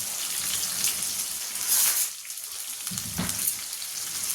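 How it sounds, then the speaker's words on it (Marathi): Onion, garlic and chillies fry in hot oil as a tempering, giving a steady close crackling sizzle that dips briefly midway, with no talk. "कांदा आणि चार पाच लसणाच्या फोडणी आणि एवढंच काय ह्या चार पाच मिरच्या पण"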